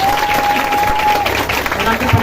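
Congregation applause during a Hindi-language church sermon: a short burst of steady crowd clapping, fairly loud, with a sustained tone running underneath.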